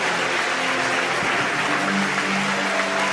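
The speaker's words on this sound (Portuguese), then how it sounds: "Pode aplaudir porque ele morreu." A church congregation breaks into steady, loud applause that holds for the whole moment, dense clapping filling the space with a faint hum and a few voices underneath.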